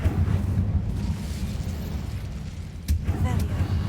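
Casting the Incendio fire spell in Hogwarts Legacy produces a roaring, rumbling fire burst that persists throughout, with a sharper crackling flare near the end.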